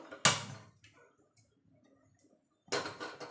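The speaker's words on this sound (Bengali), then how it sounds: "এবার গ্যাসটা ধরিয়ে দেবো" A gas stove burner is lit with two short, sharp ignition clicks, the second followed by a brief rush, close and isolated with quiet between them.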